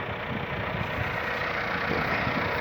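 A tractor on a cotton farm idles with a steady, rumbling diesel drone, close and fairly loud, unchanging across the few seconds, with no talk.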